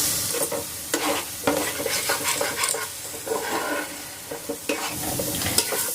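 Paste made from ground pointed gourd peel frying in a pan over medium-low heat. A continuous close sizzle is broken by repeated sharp scrapes and taps of a spatula stirring, with no talk.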